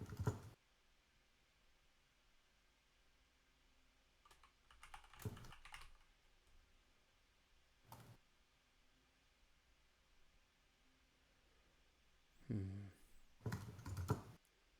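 Bursts of typing on a computer keyboard come in separate clusters, with quiet gaps between them and a couple of longer runs near the end; close and fairly soft.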